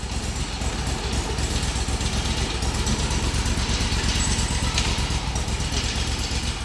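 A Kohler 25hp small engine, freshly rebuilt with a new head gasket, runs loud and close with a steady, slightly uneven rough idle that keeps the same level throughout.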